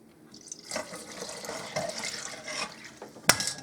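Liquid poured into a pork chop and potato casserole with dehydrated potatoes, a soft trickling splash that builds unevenly, ending in a sharp clink near the end.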